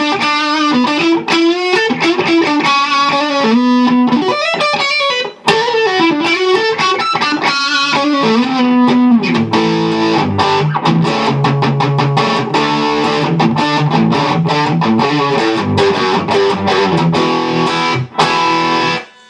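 An electric guitar played through a Blackstar HT-20 Studio Head into an HTV-212 cabinet, gain at twelve o'clock giving a loud, crunchy distorted tone, with fast riffs and sustained notes continuing for nearly twenty seconds without speech.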